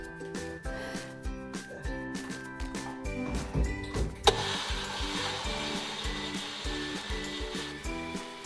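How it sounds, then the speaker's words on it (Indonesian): An electric blender whirs loudly as it purees shallots and onions inside a bathroom, with a steady motor drone that shifts pitch and grows harsher partway through as the contents break down. "blender bawang merah dan bawang bombay di dalam kamar mandi"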